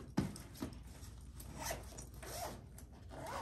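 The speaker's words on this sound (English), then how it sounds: "It zips up nice and tight." A zipper on a shoe bag is pulled closed in several quick rasping strokes, close and fairly quiet, with no one talking.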